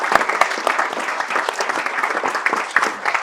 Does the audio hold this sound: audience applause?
yes